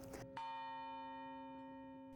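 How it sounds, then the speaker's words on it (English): A campus bell tolls once, a loud resonant strike at close range that rings on with a long, slowly fading hum after a brief muffled sound. "At the other end of campus from here, that bell still rings each day as a kind of symbolic recognition of that time."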